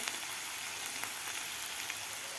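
Soft, even crackle of coriander sizzling in hot oil with onions as a tempering for Savaji dal, a faint steady hiss with tiny pops scattered through it.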